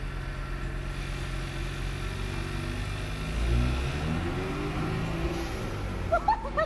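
A 2025 Ford Mustang EcoBoost with a blow-off valve idles nearby, then its engine revs up once to a louder peak and settles back, with a short higher sound at the end.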